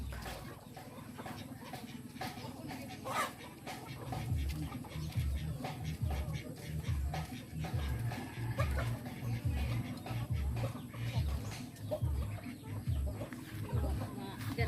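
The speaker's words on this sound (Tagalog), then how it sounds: "Ang daming manok." Chickens cluck repeatedly over a busy outdoor background in a rural province, with a dog barking at times and faint voices nearby.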